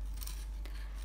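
A knife slowly shaves wood from a pencil toward the lead, giving a close, steady scraping rasp with a couple of brief stronger strokes and no talk.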